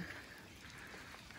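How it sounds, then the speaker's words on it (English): Heavy rain falls on a beach at Hervey Bay, Australia, a steady broadband hiss of drops on sand and water that continues without a break for the whole stretch. "started raining hard as soon as we got here"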